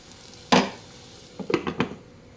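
Onions frying in a pan for a chicken and raw mango gravy, stirred with a spoon: one sharp clank, then a quick run of scraping knocks against the pan over a faint sizzle, close by, with no talking.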